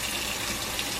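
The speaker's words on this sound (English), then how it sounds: "And then we just run it under water" Tap water runs steadily over a vial of progesterone in oil, a faint, continuous hiss and splash of flowing water with no voices.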